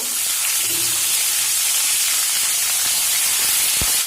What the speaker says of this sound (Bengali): আমি ওই তেলের মধ্যেই ফুলকপিগুলোকে ভেজে নেব